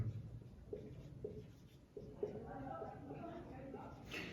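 A pen writes a maths equation in a classroom-style lesson, giving soft, scratchy strokes in short bursts beneath steady talk from a speaker throughout.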